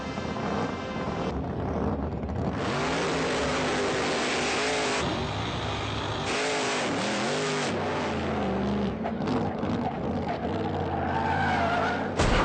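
A 2,500-horsepower 468 cubic inch Hemi Barracuda roars at full throttle, loud and continuous, its revs surging and shifting with squealing tires across the run.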